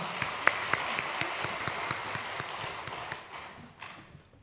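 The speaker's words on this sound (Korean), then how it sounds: "하나님께 영광의 박수 올려드리겠습니다" A church congregation at a Sunday service claps together in a steady, even rhythm that gradually softens and fades toward the end.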